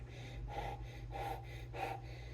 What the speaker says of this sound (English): as I'm sniffing this